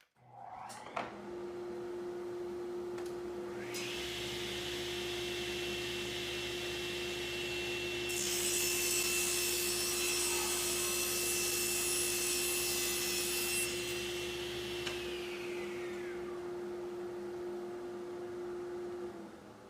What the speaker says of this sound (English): the first cut I'm going to make is just a standard rib cut with 3/4 inch thick plywood